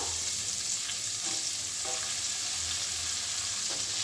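Onion caramelizing in butter in a pan gives a steady, hissing sizzle, close and even throughout, with a few faint clicks of movement and no talking.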